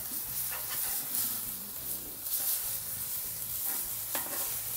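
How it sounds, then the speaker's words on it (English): A mustard-coated burger patty sizzles steadily on a hot grill, a dense, close crackling hiss that holds throughout without talk. "The burger is getting a good sear"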